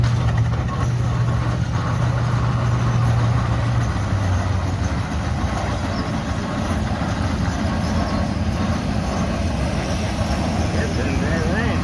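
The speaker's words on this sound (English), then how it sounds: "This one's the smoke grinder, built in 71 with a B12 Continental tank engine" A 1971 pulling tractor powered by a 1,790-cubic-inch B12 Continental tank engine with twin turbos rumbles loudly at a vintage tractor show, a deep, sustained roar under people talking.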